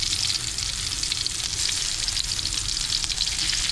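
Garlic frying in hot oil gives a steady, loud, close sizzle that continues unbroken, with no talking over it.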